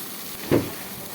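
Spices including turmeric and coriander, with chicken powder, frying in a pan, heard as a steady soft hiss with one brief stirring scrape partway through.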